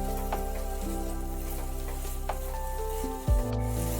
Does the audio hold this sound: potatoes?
yes